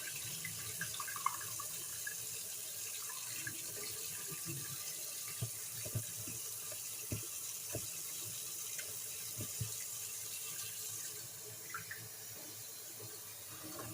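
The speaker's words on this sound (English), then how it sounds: "Turn on the cold water. Now I can completely fill these little egg divots." Cold water runs steadily from a tap into a plastic egg carton, filling its little egg cups with a continuous splashing hiss, close and moderately quiet, with a few small knocks and clunks scattered through it.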